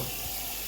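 Tap water runs over a saucepan being rinsed in a kitchen sink, a short, even hiss of flowing water close to the microphone with no talking.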